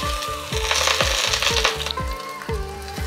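Garlic sauteing in about a tablespoon of hot ghee in a pan for chicken tikka masala curry, a loud close continuous sizzle with rhythmic scraping strokes of a spoon roughly every half second, no voices.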